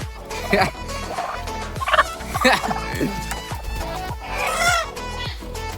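Hens on a farm cluck and call loudly and close by in repeated bursts, with several overlapping calls and a longer drawn-out cry near the end.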